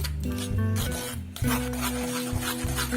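Blended juice pulp is pushed through a fine sieve, producing rough rasping and rubbing scrapes with a few tonal squeaks, close and fairly loud with no talk.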